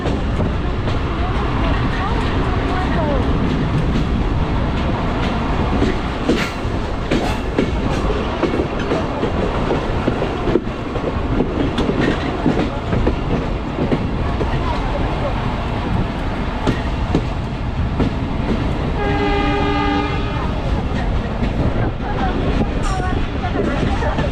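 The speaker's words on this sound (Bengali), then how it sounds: "ট্রেন এই মুহূর্তে প্রবেশ করছে শীতলাই রেল স্টেশনে" Local train entering Sheetlai railway station on the Rajshahi to Chapainawabganj line, a loud continuous rumble with rhythmic clickety-clack of wheels on rails, heard from on board, with a brief horn-like tone near the end.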